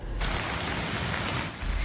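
A heavy rain downpour roars as a dense, continuous hiss of water on a flooded street, loud and close, with no voices.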